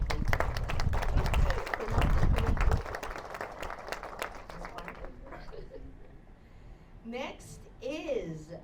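Applause from an audience fills the first half, dense and steady, then fades out as a voice begins speaking over a quieter room.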